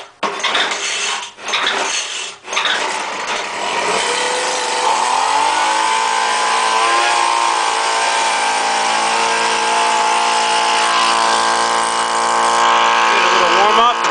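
A cold gas leaf blower, choked for the start, gives a few sharp starter pulls before the engine catches, revs up and settles into a loud, steady, close running drone.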